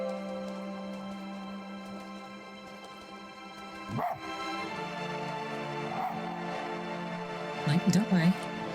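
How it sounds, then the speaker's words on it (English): A fox barks in the video game Spirit of the North: a few short, separate barks over a sustained ambient musical drone, with a small cluster of quick yips near the end. "now when I bark, they'll bark back"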